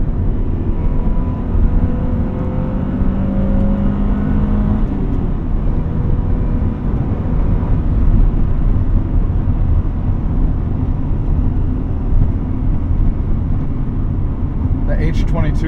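A 1998 Honda Prelude Type SH with a 200-horsepower H22 engine and manual shifter, heard from inside while driving: a loud, steady engine and road drone that runs unbroken throughout.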